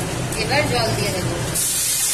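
Water poured into hot oil in a frying pan, where black cumin seeds and green chillies are tempering before fish is added for a thin curry; a loud, steady sizzling hiss that surges stronger midway, with a voice speaking over it.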